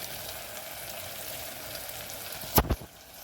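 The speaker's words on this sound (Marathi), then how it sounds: "ह्याला मस्तपैकी परतून घ्यायचं" Cauliflower sabzi sautéing in a pan gives a steady, close crackling sizzle, broken near the end by two sharp utensil knocks against the pan.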